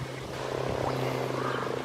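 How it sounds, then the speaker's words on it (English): Common frogs (Rana temporaria) croaking in a breeding pond, a dense chorus of low, rapid purring calls that runs steadily throughout, fairly close and continuous with no voices. "Rana temporaria. The only frog species in Ireland."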